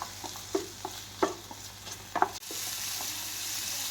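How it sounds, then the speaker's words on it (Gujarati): Carrots and capsicum are sautéed in a pan for Indian-style vegetable pasta: soft scraping stirs and taps come first, then a steady, moderate sizzle takes over. "આ બધું જ આપણે સાતળી લેવાનું છે."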